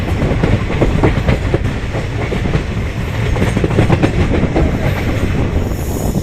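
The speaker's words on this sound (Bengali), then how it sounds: "তোমরা দেখো আমাদের ট্রেনটা একটু বাঁক নিচ্ছে আর আমাদের ট্রেনের ইঞ্জিনটা হচ্ছে ডিজেল ইঞ্জিন" Loud, steady rumble of a diesel train in motion through forest between Siliguri and Hasimara, rounding a curve, with rhythmic clickety-clack of wheels on rails, heard from on board with no talking.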